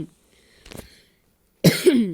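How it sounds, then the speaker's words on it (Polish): A faint throat sound is followed by a sharp, close cough, a single rough burst near the end. "Ale mnie kaszle."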